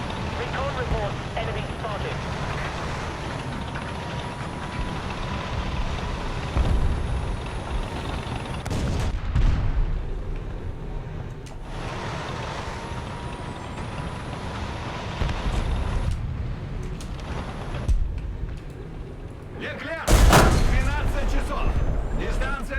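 Tank cannon fire from an Object 292 in the War Thunder video game, with heavy booming shots around the middle and a louder blast near the end over rumbling engine noise while voices talk throughout.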